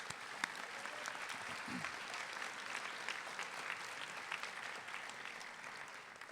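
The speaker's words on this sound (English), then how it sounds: "We would like to give all of us our applause." Steady, even applause from a large audience at a college commencement fills the hall, a continuous distant-sounding wash of clapping with a brief voice near the start.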